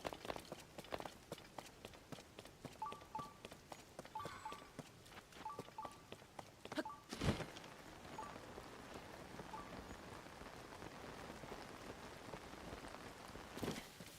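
Steady rain falls in a Zelda game, a continuous patter on the ground with rhythmic footsteps running through it, close and even, with a brief heavier thud midway and no voices.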